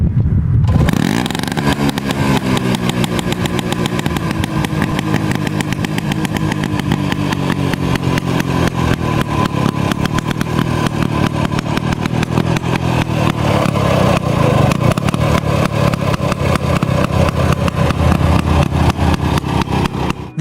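A DKW RT 125 motorcycle engine runs close and loud for about twenty seconds, a steady rapid two-stroke putter with a slight rise in revs at the start and no voices.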